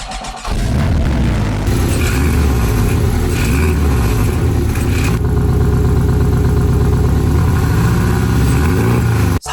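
Porsche 718 Boxster 2.5 GTS flat-four exhaust rumbling loud and close, a steady deep burbling idle that rises into a fuller, harder drone after a short blip, with no talking.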